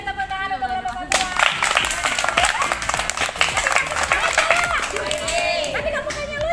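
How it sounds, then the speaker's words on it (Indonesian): A classroom group claps for a winner, with a burst of brisk, dense hand clapping and scattered cheers that runs for several seconds after a short spoken prompt. Voices and chatter mix in with the applause. "beri tepuk tangan untuk Bapak satu"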